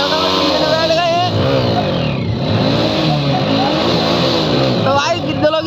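A passenger-laden vehicle with people aboard revs its engine hard and close, the pitch climbing and falling in repeated loud surges that run through the whole stretch.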